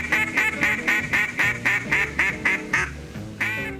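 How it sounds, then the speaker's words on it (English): A handmade bamboo duck call is blown up close in a rapid run of about a dozen loud, nasal quacks in a steady rhythm, with a short pause before the last few. "This is my old bamboo call by hand that I've made like all my ancestors, and I've killed lots of ducks with it"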